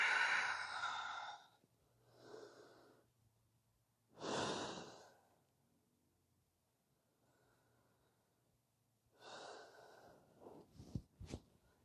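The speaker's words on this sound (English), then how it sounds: "Exhale, Adho Mukha Svanasana. 3 to 5 breaths here." Slow, deliberate breaths during a yoga downward dog pose: a long exhale, then softer breaths spaced a few seconds apart with quiet gaps, ending in a few sharper sniffs, close and fairly faint.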